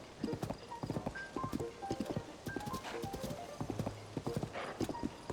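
A horse named Millie trots in Tears of the Kingdom, its hooves making a brisk, rhythmic clip-clop up close, with a brief whinny and occasional chimes from the game mixed in.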